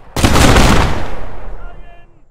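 A loud, close musket volley fired by a line of redcoats booms out at once in a single massive blast, its roar rolling and decaying over about two seconds.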